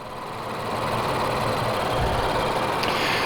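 A 2017 Infiniti Q50 3.0t VR30 twin-turbo V6 idles with a steady low rumble and faint mechanical whir, holding an even, continuous drone from close by.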